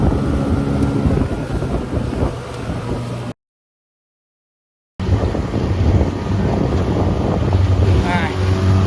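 1989 30hp Yamaha Mariner outboard driving a motorboat at full throttle, a loud constant engine drone with heavy wind buffeting on the microphone, broken by a brief silent gap.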